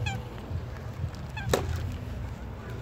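Geese honk in a sharp series of calls at moderate distance before being fed by a person, several clear honks early on and another around the middle, over a low background rumble.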